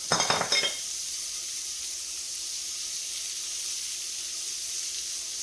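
A brief burst of crackling and stirring at the start, then a steady soft hiss of onions sizzling in oil in a frying pan, continuing alone at low volume.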